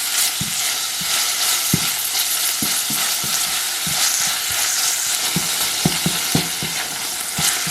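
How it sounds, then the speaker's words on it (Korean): Ground meat fries in a pot with cooking oil and sesame oil, a steady loud sizzle broken by frequent clacking stirs of a utensil against the pot, with no voices. "먼저 다진 고기를 볶아줄게요"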